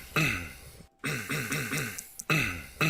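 A man clears his throat several times in rough, gravelly bursts, fairly close, with short pauses between.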